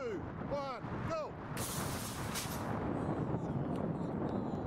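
A water rocket loaded with Holi powder and pumped to 120 psi blasts off with a sudden loud, broad rushing whoosh that fades into a long hiss, following a few brief high voices or chirps.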